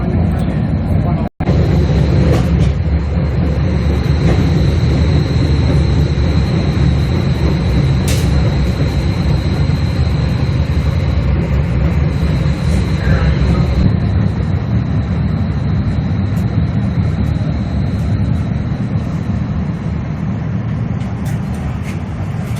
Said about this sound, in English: Streetcar goes pretty slowly and a little bit jerkily through the center of town